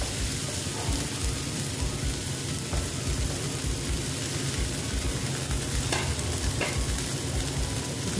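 Fried okra sautés with spice masala in a pan, giving a dense, continuous sizzle with occasional scrapes of a stirring spoon and no voices.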